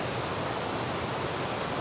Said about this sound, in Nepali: झरनाको पानी चाहिँ यहीँबाट बगेर आउने रहेछ